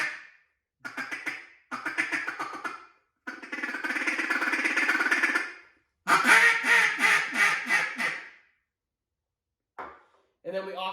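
Single reed duck call blown in bursts of raspy quacks, close and loud, in several separate sequences with pauses, one a long drawn series of rapid descending quacks.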